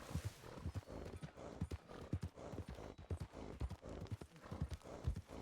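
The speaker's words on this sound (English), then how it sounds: "It's a random horse." Horse hooves clip-clop in a Red Dead video game: a steady, fairly close walking rhythm of hoof strikes on ground that continues without a break, with no talk over it.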